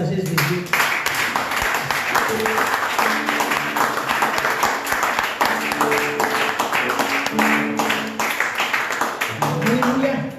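A church congregation claps and cheers together in sustained applause at a French-language service, a thick rolling patter with voices calling out over it throughout.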